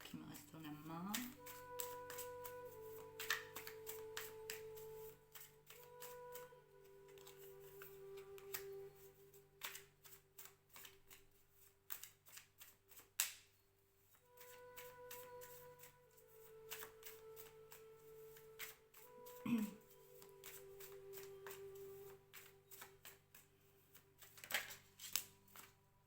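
Tarot cards shuffled by hand in a quiet room, a steady run of soft papery riffles and flicks across the whole stretch, with occasional louder snaps as cards are handled.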